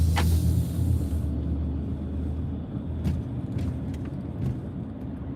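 A car pulls out on a bright sunny day and drives on, its engine a steady low rumble with road noise throughout, with a few faint higher clicks along the way.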